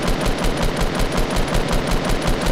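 Rapid automatic gunfire in Fortnite, a steady stream of loud, evenly spaced shots close up, with no speech over it.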